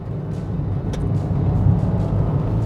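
Mahindra Marazzo, Maruti Ertiga or Renault Lodgy MPV engine revving under hard acceleration past about 2000 RPM, a steady loud low drone that swells slightly, heard alone without talk.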